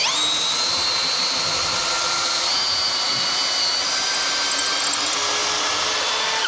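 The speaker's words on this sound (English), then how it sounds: "I'm thinking we could hit this next size up on the pilot hole" A power drill bores a pilot hole into a wooden window frame, a continuous high whining motor buzz with steady grinding, loud and close with no talking.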